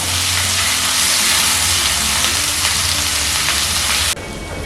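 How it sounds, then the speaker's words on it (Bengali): Ground spices such as chilli powder are stirred and fried together in a pan for potato kofta curry. A loud, dense sizzle runs steadily under the stirring and cuts off abruptly near the end. "এখন সমস্ত মশলাগুলোকে একসঙ্গে ভালো করে মিশিয়ে নিতে হবে।"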